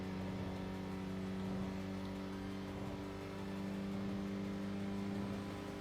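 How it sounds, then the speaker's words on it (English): A video game car engine in Tokyo Xtreme Racer drones with a steady, low, humming whir, holding a constant pitch and level for the whole stretch with no speech. "Car noises."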